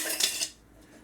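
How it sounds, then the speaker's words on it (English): Metal chinks against a glass beaker as granulated gold is added, a couple of bright clinks in quick succession followed by quiet, close up. "Glass and metal is not a good combination."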